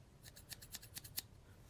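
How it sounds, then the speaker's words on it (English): Fabric scissors slowly cut fabric for a DIY notebook cover, about eight crisp snips in an even rhythm, close and soft, with no talking. "take your crafting scissors and you find where you start out and you cut"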